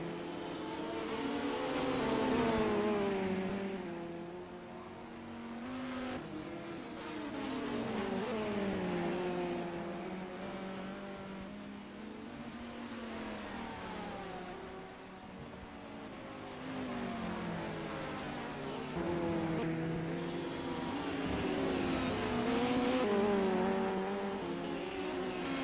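GT race cars circle the Mid-Ohio track in a sim racing endurance event, engines droning and rising and falling in pitch as they accelerate and shift, a continuous layered roar of several cars with no commentary over it.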